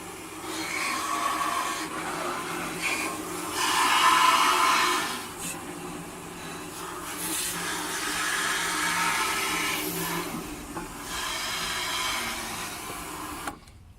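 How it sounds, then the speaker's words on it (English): A water hose sprays steadily inside a motorcycle petrol tank, a continuous hissing rush that swells and dips with changes in the flow. It is close and sustained, with no voices. "let's give it a blast with a hose and drain it out"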